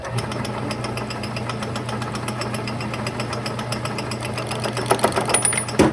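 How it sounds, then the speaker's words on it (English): A machine cuts slowly into a hard plasma-cut metal part on a mini Jeep project, giving a steady rapid rattling drone with rhythmic chatter, growing into louder clattering bursts near the end. "let's start cutting. We're just gonna take it nice and slow and take some material off"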